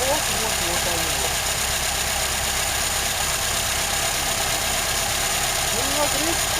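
Idling car engine with a steady mid-pitched drone and irregular, non-periodic knocking mixed into the hum, close and continuous throughout with no pauses.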